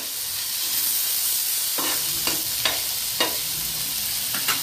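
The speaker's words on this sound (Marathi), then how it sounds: "आता जे मी टोमॅटो ठेवलं होतं फ्राय करायला तोपर्यंत मस्त टोमॅटो आता छान नरम झाले।" Tomatoes frying soft in a pan for a Marathi-style tomato chutney, a loud steady sizzling hiss up close, broken by several sharp clicks and spoon knocks in the second half.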